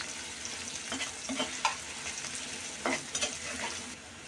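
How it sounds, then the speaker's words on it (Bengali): Chopped onion fries in oil in a pan, making a steady sizzle punctuated by clusters of spatula scrapes and stirs at close range, with no speech. "কুচি করা, ভালো করে একটু ভেজে নেব।"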